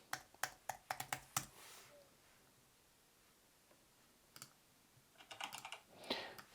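Computer keyboard typing sound effect added during CapCut editing: a quick burst of sharp key clicks, a quiet pause, then another looser run of taps, close and clear with no talking.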